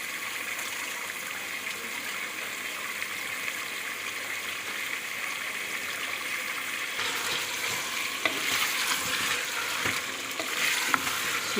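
Chicken frying in a spiced masala for biryani, a steady close sizzle with stirring that grows busier and more scraping toward the end.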